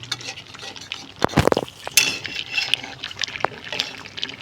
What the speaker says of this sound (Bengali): এটা আমি এবারে একটু এই গ্রেভিটার জন্য একটু জল দেবো।